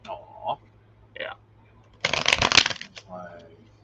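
A deck of playing cards is shuffled in one quick riffle burst, loud and close, lasting about a second. Brief bits of speech come before and after it.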